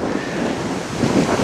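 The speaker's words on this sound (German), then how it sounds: "Aber der Wind ist wenigstens angenehm" Steady, loud wind rushes across the microphone on a warm day while a cyclist rides slowly uphill through the Oker valley toward the Oker dam.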